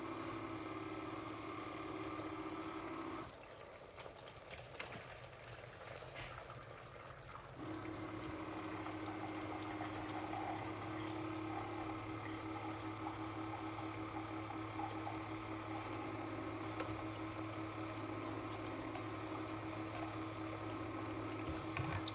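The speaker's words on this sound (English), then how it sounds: "the last couple of weeks, I've just been getting water out of the Keurig." A Keurig coffee maker dispenses plain water with a steady pumping, filling hum that drops briefly in the middle, then resumes and runs continuously at close range with no talking.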